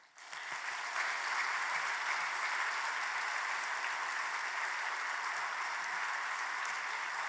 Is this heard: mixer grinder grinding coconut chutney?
no